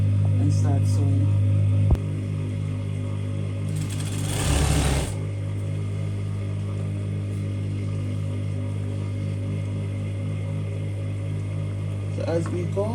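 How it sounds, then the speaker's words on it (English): A sewing machine stitching a fabric tab onto a box-pleated curtain, running as a steady close mechanical hum with a brief faster burst midway, under a person talking throughout. "So we're just gonna go ahead and start sewing."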